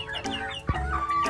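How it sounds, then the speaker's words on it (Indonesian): A rooster on a small chicken farm gives short clucks close by over a busy backdrop of other fowl calls and noise, with a low thump in the middle. "ayam jantan"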